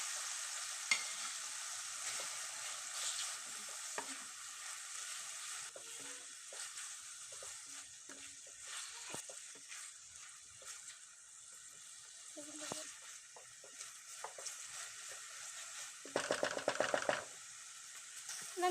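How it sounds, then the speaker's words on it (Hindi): Minced keema with garlic-ginger paste, green chilies and tomato fries in a pan with a constant loud sizzle, broken by scraping stirs and clinks of the spoon and a brief louder burst near the end. "अब हम कीमा ऐड कर लेंगे।"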